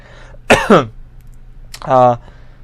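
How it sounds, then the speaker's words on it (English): A sick person gives two short throaty bursts, a cough or throat clearing followed a moment later by a louder, longer hacking sound, close to the mic. "Pardon the coughing."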